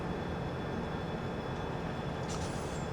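Train engine rumbling steadily at a train transfer station in Farming Simulator 17, a continuous low drone with a faint hiss rising near the end.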